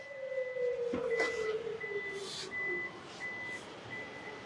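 Electronic beeping from an automatic powered back tailgate on a 2022-model used car, a steady repeated tone in short bursts over a broad background hum, moderately loud and close, with no talking.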